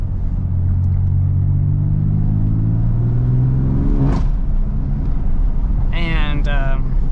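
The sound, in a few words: BMW F80 M3 engine revving with exhaust pops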